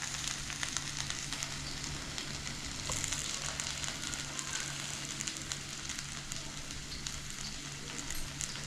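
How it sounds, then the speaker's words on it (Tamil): Oil heating in a hot pan for tempering kuzhambu, a paruppu urundai lentil-ball curry, gives a steady, faint sizzle with a low hum underneath and occasional tiny pops, with no voices. "குழம்பு தாளிக்க எண்ணெய் சேர்த்துக்கலாம்"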